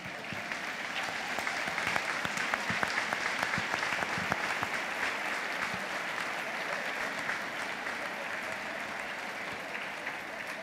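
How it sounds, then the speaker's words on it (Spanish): Guests at a Catholic wedding ceremony clap for the newlyweds, a dense, even applause that stays steady throughout at moderate loudness. "se dan el beso y nosotros les damos un aplauso"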